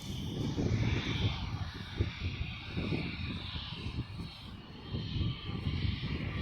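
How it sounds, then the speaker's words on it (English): A private jet taxiing on the ground, its engine a steady broad roar close by, rising and falling slightly, with wind buffeting and no talk. "I think the aircraft that's actually right behind me is a private jet."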